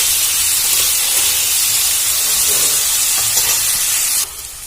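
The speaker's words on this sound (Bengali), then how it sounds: "আমি আলুটা ভেজে নেব" Loud, steady sizzling of potatoes frying in hot oil in a pan, with a constant hiss that drops slightly right at the end.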